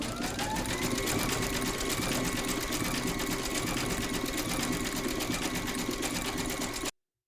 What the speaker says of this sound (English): Load your thread colour for the quilting on the front of the pocket into your machine, and then stitch round number 3.